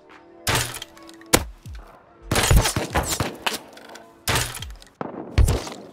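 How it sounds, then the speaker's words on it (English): Sniper gunfire in the video game Rust cracks in several loud, separate impacts, some heavy and thudding, with shattering debris and ringing decay between them. "Yeah, you see I'm getting shot by the sniper."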